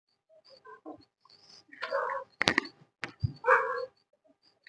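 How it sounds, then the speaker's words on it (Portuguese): A neighbour's dog barks several times in the background, sharp irregular yelps and barks spread over a few seconds with no other sound around them. "Tem um cachorro aqui no vizinho, lá no fundo."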